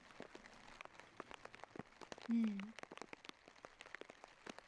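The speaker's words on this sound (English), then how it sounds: "And the pitter-patter is quite nice." Rain patters steadily through a neighborhood, a dense scatter of close drops striking surfaces, with one brief low hum partway through.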